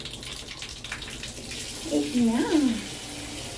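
Tap water runs steadily into a slightly dirty bathtub as a dog is being bathed, a constant splashing rush under a person talking briefly nearby.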